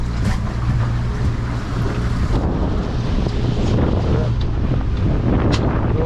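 A 2026 Hewescraft 200 ProV ET HT boat runs on the water during a sea trial, its engine a steady low rumble under heavy wind buffeting and rushing water throughout.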